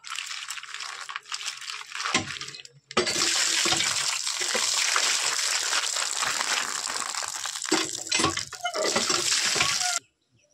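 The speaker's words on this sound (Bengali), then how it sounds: "আমি লবণ দিয়ে ভালো করে ডলে ডলে ধুয়ে পরিষ্কার করে নেব।" Chang fish being scrubbed and washed with salt under running water, a steady broadband splash and rinse lasting most of the time, with short pauses and handling noises, close and fairly loud.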